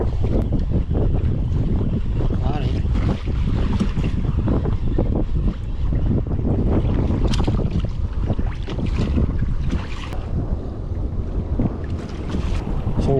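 Strong wind roars continuously across the open sea around a fishing kayak, with loud buffeting on the microphone and water sloshing beneath, steady throughout with no voices.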